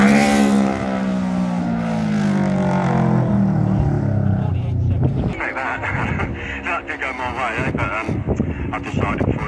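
A racing motorcycle at the Manx GP sweeps past Governor's Bridge, its engine note falling as it passes and fades away, followed by rattly revving and a spoken announcement over the noise.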